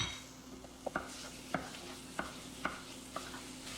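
Ground pork cooks in a pot with green pepper and potato for a summer stew, a faint soft sizzle under a few light, evenly spaced taps of a spoon against the pot.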